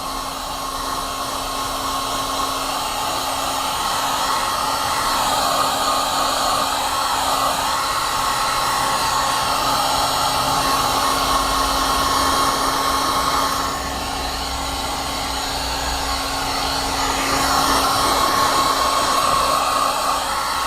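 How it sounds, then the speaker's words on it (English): A hair dryer or heat gun blows steadily and loudly while drying a steering wheel being restored, a constant whirring roar with a brief dip in pitch partway through. "And another round of the hair dryer or heat gun."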